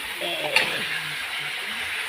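Shankar fish (stingray) hits hot spiced oil in a home kitchen pan, a steady close sizzle with a brief clatter as the pieces land, continuing evenly under faint low voices.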